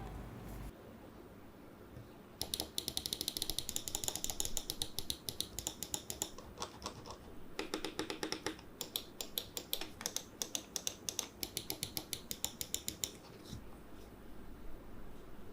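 Rapid bursts of sharp, crisp clicking from the switches of a Rexus Bara X17 gaming mouse, many quick heavy clicks in clustered runs with short pauses between, close up and fairly loud.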